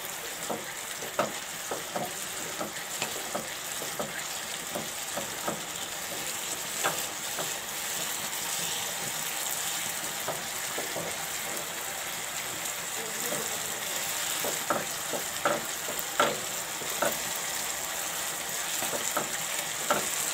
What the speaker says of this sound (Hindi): अब इसका चूल्हा तेज़ करके इसको अच्छे तरीके से घोटेंगे।